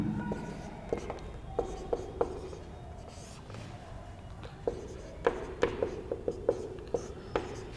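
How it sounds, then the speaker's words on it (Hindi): Writing out a logarithmic differentiation math problem: soft, continuous scratchy strokes punctuated by quick, sharp taps and dots. The sounds are close and quiet, with the taps clustering more densely toward the end. "थोड़ा इसको मैं सजा के लिख देता हूं"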